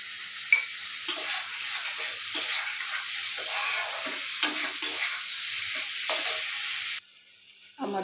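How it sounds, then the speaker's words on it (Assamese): Potatoes fry in oil with spices in a pan for a Bengali-style muri ghonto with rohu fish head. There is close sizzling, and a utensil scrapes and stirs in irregular strokes until the sound drops away near the end. "এতিয়া ধুনীয়াকৈ মছলাৰ লগত আৰু এইটো কষাব লাগিব।"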